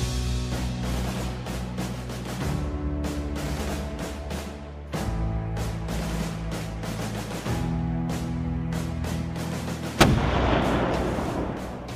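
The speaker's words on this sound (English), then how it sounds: "The sound of cannon fire rang out in the gloomy pre-dawn air" Deep booming blasts recur over a dense, sustained rumbling bed, with one sharp report near the end followed by a hissing wash.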